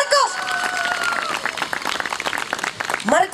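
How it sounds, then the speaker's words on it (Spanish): An audience breaks into loud applause for Marcos after a banana magic trick on a stage show, with cheering and a voice talking over the clapping. "¡Fuertes aplausos para Marcos!"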